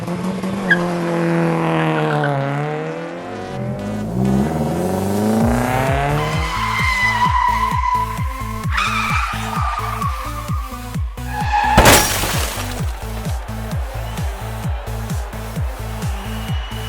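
Cartoon race cars roar and skid through a children's animated race, with rising and falling engine whines, a steady pulsing engine rhythm, tire squeals and a sharp bright burst near the end, all loud and close with no talking.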